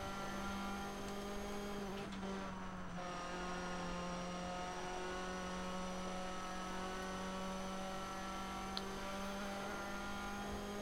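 In the Toca Race Driver 3 video game, a race car engine holds a steady, loud tonal whine as the car takes a corner, with faint tyre noise mixed in and no talk.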